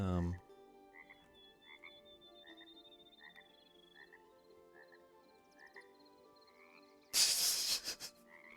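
Croaking of a frog in the video game Hytale, a short series of regular, evenly spaced croaks over a steady game background, ending in a loud burst of hissy noise.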